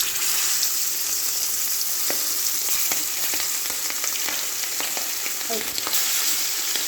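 Food frying in hot olive oil seasoned with salt, black pepper and paprika, a loud, constant crackling sizzle with occasional clicks of stirring, close up, with one brief exclamation.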